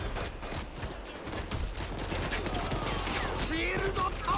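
Sustained bursts of gunfire rattle through a firefight in the heist shooter Payday 2, dense and steady at moderate volume, with the game's other battle noise mixed in.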